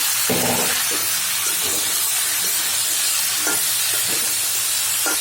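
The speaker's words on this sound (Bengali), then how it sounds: "আমি এইভাবে তরকারিটা নেড়ে চেড়ে দিলাম" Tilapia and snake gourd curry fries in oil in a pan with a constant loud hiss, while a spoon stirs it in a few scraping strokes. Nobody speaks.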